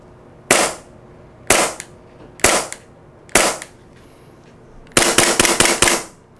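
A Tokyo Marui gas airsoft pistol running on power gas fires BBs in four sharp, loud single shots spaced about a second apart, then a quick string of roughly six shots close together.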